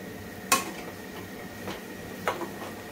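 Varai rice (barnyard millet) with coriander is stirred in a pan, with two sharp spoon clinks against the metal over a soft background sizzle.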